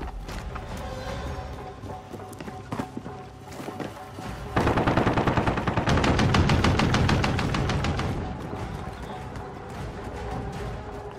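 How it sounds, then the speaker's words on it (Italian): Rapid automatic gunfire in the Call of Duty: Modern Warfare multiplayer game, steady crackling bursts that swell into a dense, loud fusillade midway before easing back to continued shooting. "Mi stanno sparando!"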